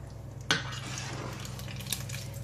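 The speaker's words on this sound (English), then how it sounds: "I'm going to add some flour to the pan" Flour going into a hot pan of hamburger drippings for gravy, a sharp scrape of a utensil against the pan followed by soft steady stirring and faint sizzle, close and quiet with no talk.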